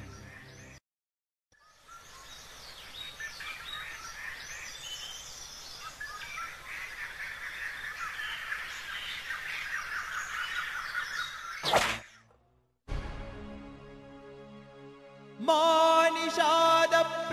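Krauncha birds calling from a tree in a staged dance drama: a dense, steady chatter of harsh cawing calls runs for about ten seconds, then a sharp burst, silence, and music.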